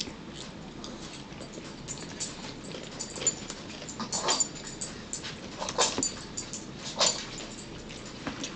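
A small dog whimpers indoors in short, intermittent high whines and yips that rise and fall over several seconds, moderately close.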